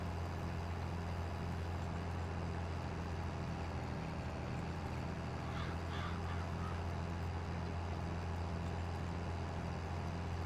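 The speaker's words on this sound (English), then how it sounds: "Bit high on the revs, maybe." A tractor engine in Farming Simulator 22 runs with a steady, low droning hum. It is fairly quiet and holds a constant pitch throughout, with no clear rise or fall in revs.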